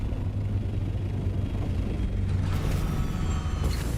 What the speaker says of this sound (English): I think that is the sound of a worm eating a crashed ship.